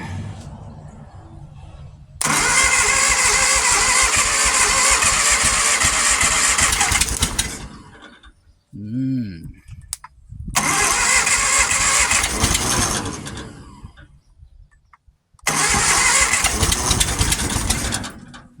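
A Triumph Vitesse 2-litre engine cranks and roars to life loudly, dies, then catches and runs again twice more, with brief quiet gaps between attempts.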